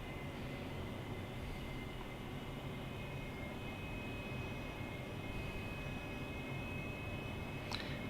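In the DCS flight simulator, an AV-8B Harrier jet makes a vertical landing over a steady, broad engine roar. The sound is constant and moderately loud, with a high whine running through it the whole time.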